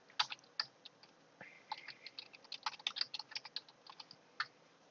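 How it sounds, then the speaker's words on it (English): Rapid, irregular keystrokes on a computer keyboard while configuring custom mixing in CleanFlight for a plane, close and fairly quiet, with bursts of clicks and short pauses, no talking. "I'm going to save myself a little bit of typing again."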